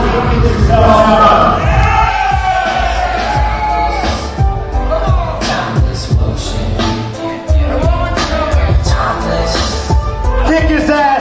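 A loud crowd at a Spokane Anarchy Wrestling Halloween show cheers, yells and whoops continuously, with bursts of shouting rising and falling over a dense wall of voices.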